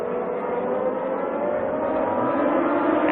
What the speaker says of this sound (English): There's the 27 car field coming out of corner number 4.